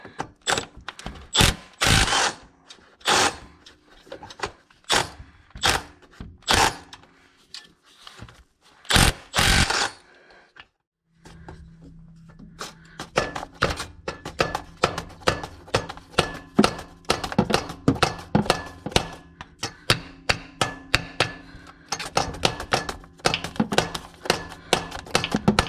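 A 90-degree right-angle power tool works at starter bolts on a Jeep JK with a Pentastar engine, firing in sharp, loud ratcheting bursts, then a steadier run of rapid clicking and whirring pulses close by.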